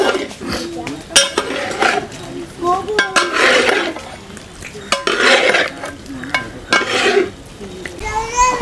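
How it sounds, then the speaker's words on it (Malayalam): Chicken is stirred in a pan over a low sizzle, with repeated scraping and clanking of a utensil against the metal, while voices, including a child's, talk intermittently nearby. "നന്നായി ഇളക്കി കൊടുക്കുക."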